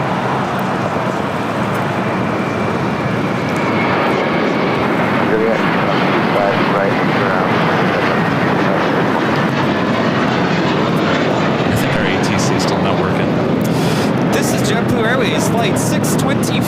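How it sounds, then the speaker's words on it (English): Delta Airlines Airbus A319 arriving at LAX, a loud, steady broadband jet roar that holds throughout with a slight swell toward the end, as a nearby arrival would sound. "Here we have Delta Airlines 2534 coming in from San Antonio, Texas on an"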